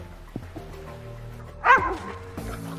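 A dog gives one loud, close bark with a yip-like edge over a low steady indoor hum, with brief small knocks before and after.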